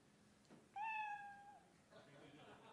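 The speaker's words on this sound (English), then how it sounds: "They know their 60 seconds is up when they hear the sound of a kitty." One short cat meow, clear and fairly close, followed by faint background noise.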